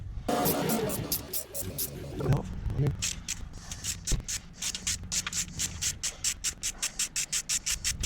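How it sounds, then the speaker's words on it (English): A ratchet undoes an engine adjuster nut during a rebuild. Early shuffling and clatter give way to a fast, steady run of sharp ratchet clicks, close by, with no talking. "let's undo the adjuster. That way, that'll loosen it all off."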